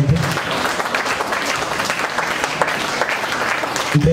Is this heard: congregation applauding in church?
yes